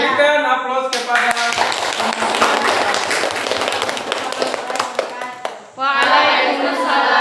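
An audience applauds a group presentation in a classroom, a dense burst of clapping lasting several seconds, with voices at the start and end.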